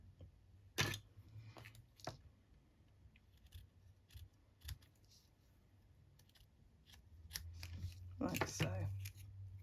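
Scissors snipping through book pages in a papercraft project, a few separate cuts near the start and a louder flurry toward the end, with a person speaking briefly.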